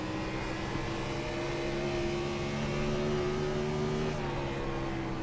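Race car engines in the iRacing sim at Iowa Speedway with the Gen 4 cars: a steady, loud, continuous engine drone with sustained tonal whine, no talking.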